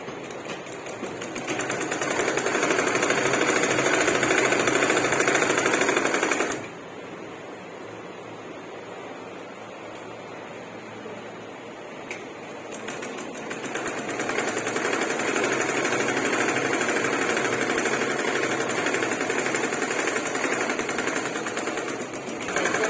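A sewing machine runs close by in long stretches of rapid, continuous stitching, pausing for a few seconds midway with faint clicks before resuming at a steady pace; no talking.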